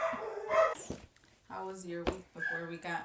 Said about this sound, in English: really interrupted by my dogs.